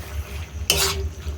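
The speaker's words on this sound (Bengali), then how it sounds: "তো এটাকে নেড়ে নামিয়ে নিব এবার" A curry being stirred in a pot after garam masala is added, one short wet scraping stir against a low background hum, close and brief with no talk.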